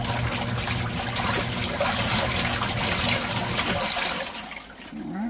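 An RV washing machine runs its rinse cycle, with water rushing and sloshing steadily for several seconds before easing off into a quieter trickle near the end.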